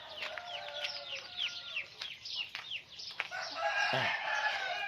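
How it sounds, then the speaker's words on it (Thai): A flock of chicks peeping in rapid high chirps alongside clucking hens, busy and close, with a short burst of louder fowl calls near the end. "นี่เลี้ยงลูกไก่นะครับ"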